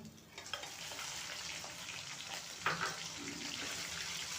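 Bone-in chicken, half a kilo, hitting hot oil with fried garlic, ginger and whole spices sets off a steady broadband sizzle, with a brief louder burst midway as the pieces are stirred, no voices.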